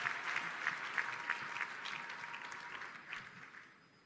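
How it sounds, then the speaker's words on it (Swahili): An audience at a church fundraising harambee in Bagamoyo claps together, a dense burst of applause with a few sharper claps near the start, gradually thinning and fading out. "Nafikiri tumpigie makofi zaidi huyu kijana."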